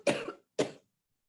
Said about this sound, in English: Not a good time for a coughing attack.